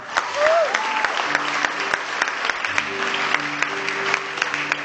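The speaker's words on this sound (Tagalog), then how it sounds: "Palakpak naman dyan." An audience at an honorary doctorate conferral ceremony claps steadily with a few sharper individual claps, while a short voice rises briefly near the start.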